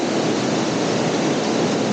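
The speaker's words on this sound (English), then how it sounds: "I can hear the roar of the waterfall" A waterfall roars in a steady, unbroken wash of dense rushing noise that holds at an even loudness throughout, with no voices.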